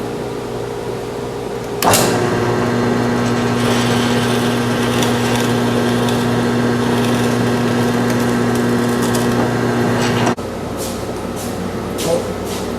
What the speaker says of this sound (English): So you got to be real careful drilling this hole.